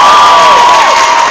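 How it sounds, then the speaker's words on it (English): A college crowd at a stage hypnotist show cheers and applauds for volunteers on stage, a very loud, brief burst of shouting voices and whoops over clapping. "How about a big round of applause for volunteers up here on stage?"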